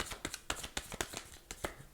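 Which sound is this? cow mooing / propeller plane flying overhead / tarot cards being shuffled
tarot cards being shuffled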